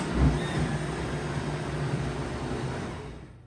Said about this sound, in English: I'm actually gonna put it into the blender